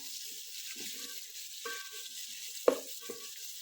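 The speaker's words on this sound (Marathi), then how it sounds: "सारखा परतून घ्यायचा आहे कांदा" Chopped onion sautés in a pan for egg biryani, a soft continuous sizzle with occasional stirring scrapes and one sharper clack, faint and close.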